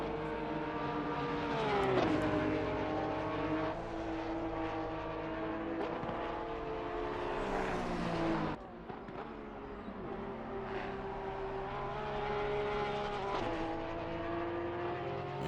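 Porsche Cup race cars lap the track, engines wailing through rising and falling gear changes, with a car roaring close past before the pitch drops away and the next engine note builds again, fairly quiet overall.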